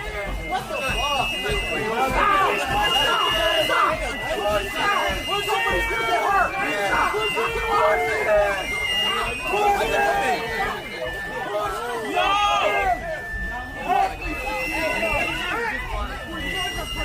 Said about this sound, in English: it's so easy to be in a situation in a tiny little space like this with the crowd pushing forward